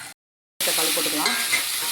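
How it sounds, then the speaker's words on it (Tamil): Tomatoes frying in hot oil in a pan for a chicken cumin gravy. A loud, steady sizzle starts abruptly after a brief silence and continues close up with soft stirring crackles, with no voices. "நல்லா ஃப்ரை ஆகட்டும்"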